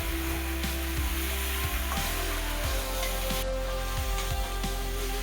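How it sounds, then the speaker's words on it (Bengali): Spice pastes of ginger, cumin, chilli, garlic and onion sizzle steadily while being sautéed in a pan for a homestyle soybean curry, with a continuous close frying hiss and occasional stirring clinks, no talking. "এবার ভালোভাবে কষিয়ে নেবে, কারণ যত কষবে ততই ভালো হয়।"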